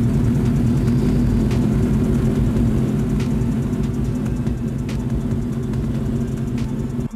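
A repaired, previously crashed motorcycle's engine runs at a steady, fairly loud idle, a low rumbling drone with faint periodic ticks, cutting out abruptly at the very end.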